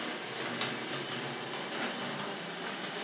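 A Tri-ang Railways RS.7 diesel railcar model train set running on its track, a faint, steady rolling hum with light rhythmic clicks of the wheels over rail joints.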